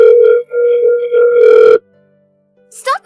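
A telephone tone sounds in steady repeated pulses during a call, loud and close, with a short higher chirp after a brief silence at the end.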